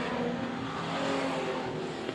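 Race cars roar through heavy traffic into a turn at Hobart Speedway, engines droning and revving together in a loud, sustained blur of motor noise.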